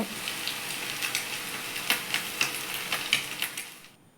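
Egg balls dipped in batter sputter in hot oil, giving a bright, crackling sizzle with frequent sharp pops in an irregular rhythm, close and fairly loud, fading out at the end.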